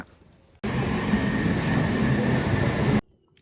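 A steady, loud rumble of a moving train interior in London, wheels and carriage noise droning continuously, with a faint high squeal near the end.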